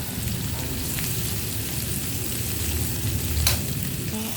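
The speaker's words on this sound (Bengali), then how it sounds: "পেঁয়াজ আর শুটকি যত কষাবে তত মজা" Sliced onion and dried fish (shutki) sizzle in a pan while being stirred, a steady loud frying hiss with occasional scraping stir sounds and no talking.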